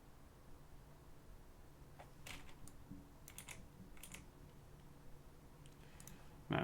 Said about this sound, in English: Man, my typing sucks.